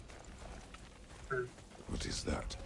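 Kelpie horse hooves in the video game God of War Ragnarök: a short clip-clop burst in the middle, then a louder run of hoofbeats near the end, under a steady game backdrop with voices.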